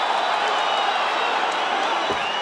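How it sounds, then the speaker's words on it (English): A Brooklyn arena crowd roars steadily through the closing seconds of a UFC fight between Zabit and Kyle Bochniak, a dense, continuous wash of cheering with no clear breaks. "Brooklyn crowd getting behind these 2 warriors."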